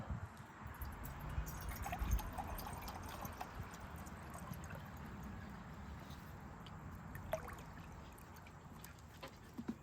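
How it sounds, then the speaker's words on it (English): Water poured into a Stanley pour-over coffee set outdoors, a steady trickling and splashing stream running on for several seconds at close range, with no talk over it. "Add some water."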